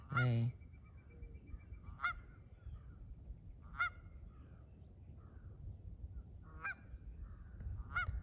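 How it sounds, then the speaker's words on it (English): Geese honk outdoors at a moderate distance, four or five separate loud calls spaced a couple of seconds apart over a low steady rumble of background noise. "I've noticed when it comes to geese that they just want me to be quiet for a minute. Like, as long as you're gonna honk, I'm gonna keep doing it"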